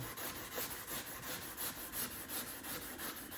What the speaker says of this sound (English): I'm gonna go ahead and sand this back some.